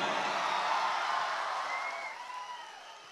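Crowd of audience members clapping for a singer at an event in Lakhimpur, a dense burst of applause that fades over a few seconds.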